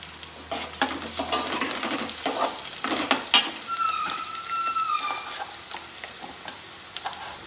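Onion frying in oil in a home kitchen pan sizzles steadily while a utensil stirs and scrapes with irregular knocks, fairly close, and the sizzle softens toward the end.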